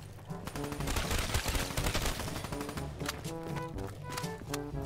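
A PPSh submachine gun fires in Black Ops 3, rapid and continuous bursts close and loud, layered over game music tones and other in-game effects.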